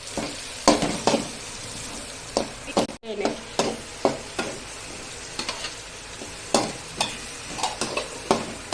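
Tomato, onion, mustard seeds, cumin and turmeric frying in a pan while being stirred, a soft steady sizzle punctuated by sharp irregular scrapes and taps of the spoon, close and with no voices.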